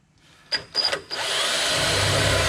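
A few short bursts of a power drill, then a continuous drill whine boring through a metal car panel on a Nissan S14, close and growing steady.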